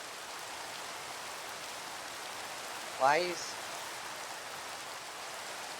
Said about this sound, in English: It's raining in real life.